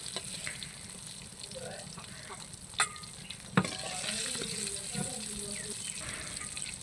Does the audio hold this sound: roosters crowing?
no